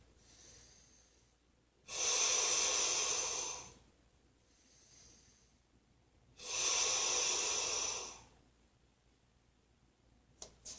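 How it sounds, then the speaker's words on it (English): Two slow, deep breaths during a yoga exercise, each a long airy inhale or exhale lasting about two seconds, close and clear with quiet pauses between. "you start to take in slow, deep breaths"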